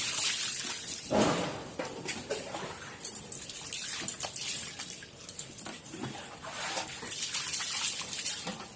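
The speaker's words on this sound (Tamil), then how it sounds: "நீ ஊத்து, தண்ணியை ஊத்து" Water splashes and trickles steadily while a puppy is bathed at home, a continuous pouring and dribbling sound with brief louder splashes, close by and without talk.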